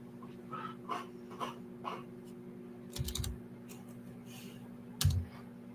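Computer keyboard typing during a live gold trading session, sparse clicks and short bursts of keystrokes close by over a steady electronic hum, with a couple of louder thumps.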